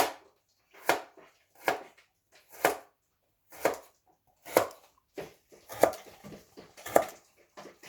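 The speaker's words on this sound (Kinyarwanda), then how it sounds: "Ndakata karoti ntoya kugira ngo zize kumfasha kubyara isosi nziza yarasanye." Knife chopping carrots into small pieces on a cutting board for a vegetable lasagne sauce, a steady series of about a dozen crisp, close thuds with short gaps between them, no voices.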